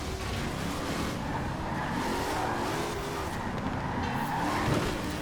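A 1300HP Ford Bronco races in Forza Horizon 4 online, a steady loud engine roar with shifting pitch, tire noise and other cars around it, continuous and close without speech.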